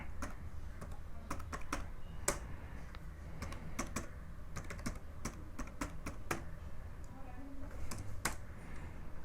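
Someone types a password on a computer keyboard, a quiet, steady stream of light key clicks with occasional sharper taps, close and continuous throughout.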